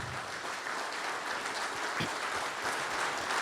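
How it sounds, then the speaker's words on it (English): Sustained audience applause at a manufacturing leaders' summit, steady dense clapping that holds at an even level for the full stretch with no talk over it. "Please give a round of applause to wherever she is."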